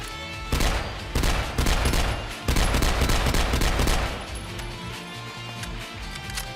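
A modded gun called Only Death Could Part Us fires in Fallout 4, loud bursts of shots in quick rhythmic volleys, then quieter game sound with scattered shots trailing off.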